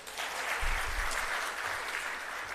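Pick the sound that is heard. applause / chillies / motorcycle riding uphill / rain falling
applause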